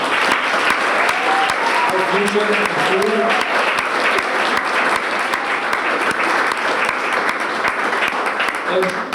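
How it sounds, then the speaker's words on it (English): A crowd applauds at the ribbon cutting for a high school tech wing, a long, dense roar of clapping with a voice briefly speaking over it early on. "Okay, so a round of applause again for our"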